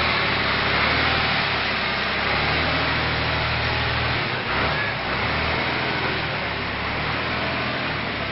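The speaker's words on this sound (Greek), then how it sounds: "Εδώ γκαζώνει ο Πανάρος." An engine runs steadily and loudly for the whole stretch with a broad, rough roar, rising slightly at the start and briefly dipping midway, as if being revved continuously, with no voices over it.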